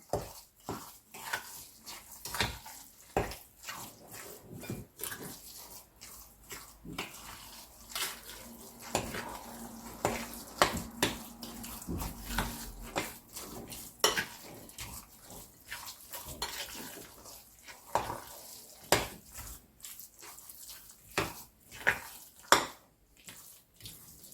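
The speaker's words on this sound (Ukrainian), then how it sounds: "Також все перемішаємо." Spoon stirring a grated cheesecake batter with poppy seeds in a bowl, a long stretch of soft wet scraping with frequent clinks against the bowl, close but quiet and without talk.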